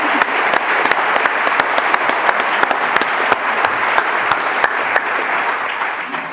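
An audience applauds an award winner at a live awards ceremony: loud, dense, sustained clapping with sharp individual claps standing out, fading slightly at the end.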